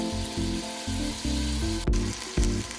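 Ginger garlic paste fries in oil in a pan for prawn biryani, a steady close sizzle that swells in short bursts as the paste is stirred, with no voices.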